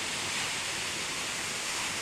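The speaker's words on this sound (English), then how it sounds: "at the Waterfall in the Grand Staircase" A waterfall in the Grand Staircase of Southern Utah gives off a steady, dense roar of falling water, loud and unbroken throughout with no voices.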